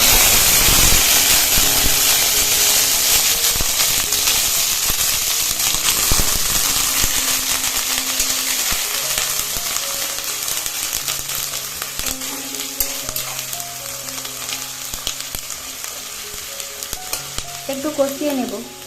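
Ginger, garlic and onion paste fries in a hot pan for an egg curry, loud continuous sizzling and hissing up close, gradually easing, with scraping stirs and a faint musical background.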